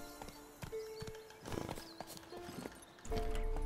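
Roach the horse trotting in The Witcher 3, a rhythmic clip-clop of hooves at a moderate volume, with a brief whinny-like tone and a louder swell of movement near the end.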